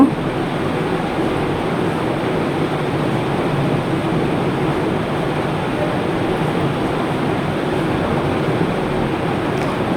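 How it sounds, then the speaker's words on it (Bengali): Small pieces of meat coated in flour fry in hot oil: a dense, steady sizzling hiss, close and fairly loud, continuing evenly with no talk. "ময়দা লাগিয়ে এভাবে করে ভেজে নিচ্ছি"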